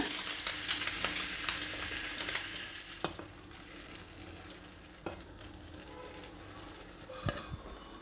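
Paddu batter sizzles in a hot, butter-greased paddu pan for Davangere-style benne paddu, a soft, steady crackling hiss with occasional small pops and ticks throughout.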